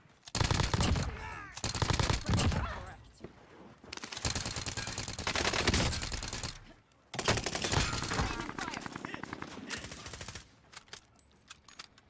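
Bursts of rapid automatic gunfire and loud shots in a video-game firefight, dense and close, recurring across the stretch with brief lulls while a player talks excitedly over the action.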